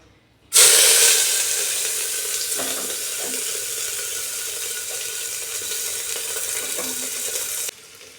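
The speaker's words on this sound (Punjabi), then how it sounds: "ਤੇਲ ਗਰਮ ਹੋ ਗਿਆ ਹੁਣ ਇਹ ਚ ਗੰਡੇ ਪਾਵਾਂਗੇ" Onions drop into hot oil in a pressure cooker and erupt into a loud, steady hiss of frying that continues evenly for several seconds before cutting off.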